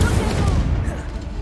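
Incendio fire spell cast in Hogwarts Legacy, a short loud burst of fiery rushing noise that tapers off within about a second.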